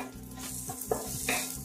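Finely chopped capsicum stirred in a pan with softened onions for paneer bhurji, a constant soft sizzle with scraping stir strokes and a small clink, quiet and close.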